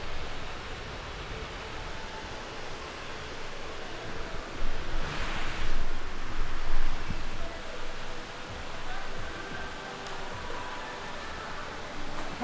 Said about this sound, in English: This waterfall is cool too.